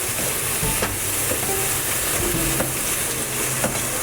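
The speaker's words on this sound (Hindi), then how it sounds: "अब इन सारी चीज़ों को अच्छी तरह से मिक्स करना है, मसाले को भूनना है" Spices and tomato stirred and roasted in a pan, a dense continuous sizzle with scraping stir strokes throughout, close and fairly loud.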